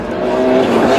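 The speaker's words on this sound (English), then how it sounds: "the bookie's favourite Malcolm Wilson in his very new Escort Cosworth was instantly showing some very fast form" A new Ford Escort Cosworth rally car on a forest stage in the 1993 British Rally Championship, a brief loud engine roar with tyre noise as it passes close.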